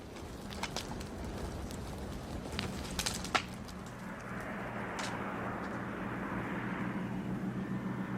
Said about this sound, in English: As the dangerously overloaded Caribou comes into land